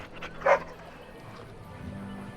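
A puppy in the fantasy game Dragon Age: Origins gives one short bright yip, near and brief, set against quiet background ambience.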